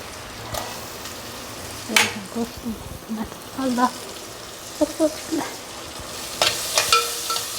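Tomatoes frying in a pan for sambar, with soft scattered sizzles and spoon-stirring scrapes rising in short bursts over a quiet kitchen background, and a few brief louder clatters near the end.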